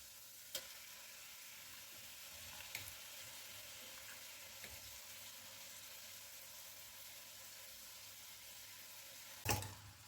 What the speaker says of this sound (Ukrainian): І тушу капусту приблизно до хвилин 10 на самому маленькому вогні.